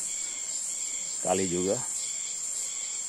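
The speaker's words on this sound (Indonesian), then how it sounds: "Yang ada cuma bunyi jangkrik." A steady, high-pitched cricket trill drones continuously throughout in a forest on a dry streambed near Baubau, Southeast Sulawesi, while a person speaks briefly in the middle.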